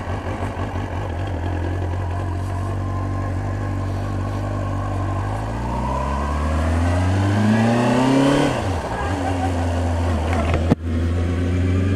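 A fuel-injected Triumph Speed Four motorcycle rumbles loudly at idle, then revs up with a rising engine pitch as it rides off. A sharp knock comes near the end.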